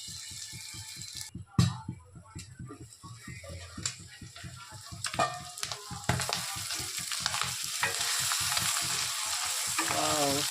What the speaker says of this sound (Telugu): రెండు లివర్లు అనేది మంచిగా ఫ్రై అయ్యాయి